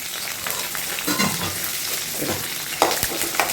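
Curry leaves frying in hot oil, a continuous crackling sizzle with bursts of popping and a few spoon clinks, close and fairly loud.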